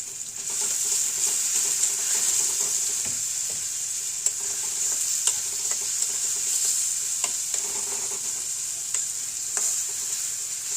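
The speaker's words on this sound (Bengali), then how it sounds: "পেঁয়াজ দিয়ে দিলাম, এখানে দিয়ে দেবো চিকেনগুলো।" Chicken and onions fry and get stirred in a pan for pasta, a steady bright sizzle running throughout with scattered scraping clicks of the spoon, close and fairly loud, no voices.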